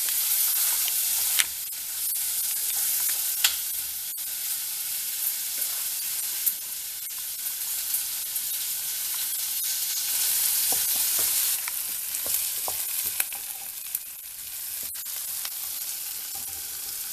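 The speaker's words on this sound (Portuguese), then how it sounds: "Aqui então eu já terminei de refogar a cenoura e a cebola para fazer o molho." Carrot and onion sautéing in a pan for a sauce, a continuous loud sizzle and hiss with occasional stirring scrapes and clicks, close and without talk.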